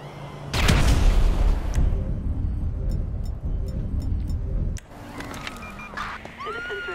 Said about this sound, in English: Citizens report an explosion on North Archer Avenue.